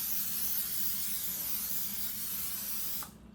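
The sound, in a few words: cooking oil spray on casserole dish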